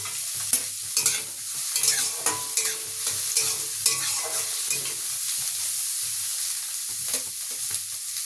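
Carrots, beans and capsicum are stir-fried in a pan under a soft running sizzle, with frequent sharp clinks and scrapes of a spatula against the metal, close and fairly loud, with nobody talking.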